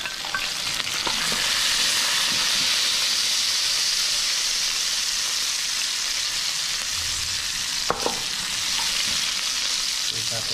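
Garlic sizzling and frying steadily in a large pan, a continuous loud broadband hiss with occasional stirring clinks, no voices.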